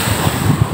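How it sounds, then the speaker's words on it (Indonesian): High sea waves surge along the west coast of Lampung, a loud, constant rush of surf with heavy wind buffeting the microphone. "ini ombak lautnya hari Selasa tinggi banget."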